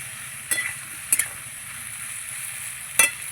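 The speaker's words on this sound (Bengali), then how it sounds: "আলু পটলের সঙ্গে পেঁয়াজটা আমি ভেজে নেব।" Potato, pointed gourd and chopped onion frying together in a pan, a soft steady sizzle with three sharp stirring clinks of a spatula against the pan, close and quiet, no voices.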